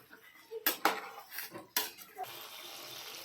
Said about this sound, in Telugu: మంచిగా కర్డ్ వేసిన తర్వాత మంచిగా మిక్స్ చేసుకోవాలండి.